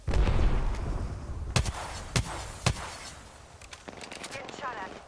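Gunfire in a ranked match of a first-person shooter, with sharp, loud single shots and short bursts scattered through a few seconds over a busy background of game sound and a voice.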